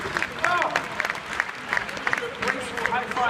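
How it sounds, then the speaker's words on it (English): Applause from a crowd at the Gadget Show Live 2016 at the NEC, a continuous rattle of clapping with scattered sharper claps and voices talking over it. "Round of applause, please"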